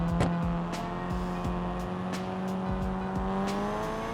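The Ibishu Yoru car in a video game runs with a steady, sustained engine drone, its tone holding level and close under a series of sharp regular clicks and ticks, with no voices.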